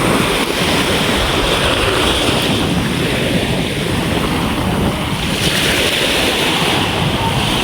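Sea waves and rushing water surround a small fishing boat out at sea, with heavy wind buffeting the microphone. The wash is loud and continuous, with no clear voices.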